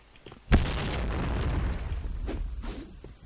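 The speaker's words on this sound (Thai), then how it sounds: "โอ้โอมันปาระเบิด" In a video game, a grenade goes off as one sudden boom followed by a rumbling, fading tail that lasts a few seconds. The sound is at moderate loudness and has no talk over it.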